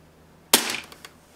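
A single sharp crack from a Tokyo Marui M&P airsoft pistol firing one shot, with a brief mechanical clatter trailing off afterward in an otherwise quiet room.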